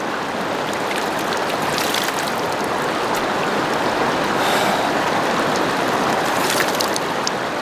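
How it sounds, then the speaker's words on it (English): A mountain river running with cold snowmelt fed by small streams, a dense, even rushing of water that stays loud and unbroken throughout, with no voices. "this river that's flowing, it's getting filtered through the mountains and through these little streams"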